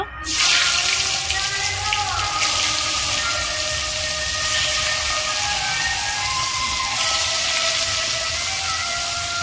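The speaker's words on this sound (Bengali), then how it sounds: "তেল গরম হয়ে গেছে, এবার আমি মাছগুলো ভেজে নেব।" Koi fish fry in hot mustard oil with a loud, steady, crackling sizzle that starts abruptly and stays dense and even throughout, close up.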